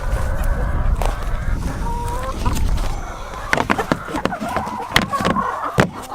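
Backyard chickens clucking and squawking at an afternoon feeding, a busy overlapping flock chatter with sharp calls and a few louder bursts near the end.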